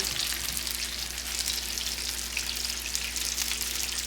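Panko-breaded fish deep frying in hot oil, a steady, dense sizzle and crackle heard close up and continuing without pause.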